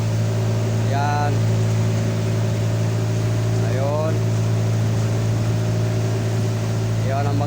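A fishing boat engine hums in a steady, loud drone throughout, with a voice speaking briefly a few times over it.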